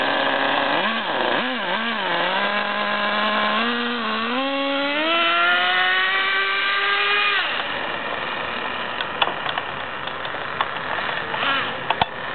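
A Traxxas T-Maxx RC truck's small nitro engine screams loudly, revving up and down several times before holding a rising high-pitched whine, then dropping to a rougher idle with small clicks and knocks.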